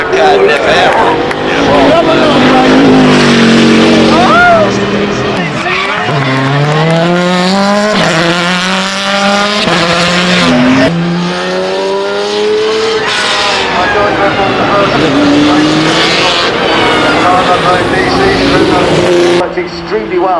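The Rimac Nevera hypercar running at Goodwood Festival of Speed, loud sweeping whines rising and falling as it passes near, with a crowd and a commentator's voice running over it.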